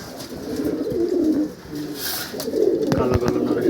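A breeding pair of pigeons, a black-necked male with a brown-necked female, coo in low repeated rolling calls close by, with light rustling and faint background noise throughout.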